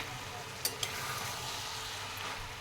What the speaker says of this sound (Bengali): শাকটা ভালো করে নেড়ে নিচ্ছি, এবার ঢেকে দেবো।